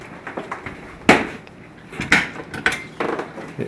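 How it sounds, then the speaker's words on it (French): A dishwasher is pulled open and the dishes inside rattle, with several sharp clinks and knocks of crockery and cutlery spaced a second or so apart, close and fairly loud. "OK, ouvre le lave-vaisselle."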